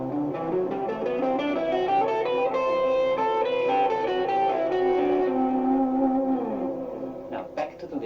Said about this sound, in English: So C Lydian looks and sounds like this.